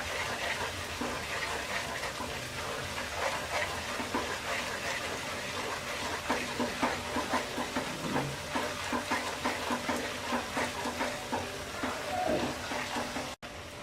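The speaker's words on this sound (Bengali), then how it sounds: "এবার মশলাটাকে 2 মিনিট ভুনে নেব" Chili and turmeric spice paste sizzles and crackles in a pan while it is fried for green mango pickle. The sizzle is steady with bursts of stirring, there is no talk, and it cuts off abruptly at the end.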